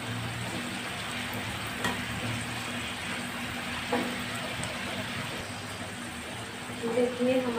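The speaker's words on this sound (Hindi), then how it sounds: "हमें चने को चलाते हुए क्रिस्पी होने तक के फ्राई करना है।" Chickpeas fry and are stirred until crispy, making a steady close sizzle with occasional scraping stirs, and a brief clatter near the end.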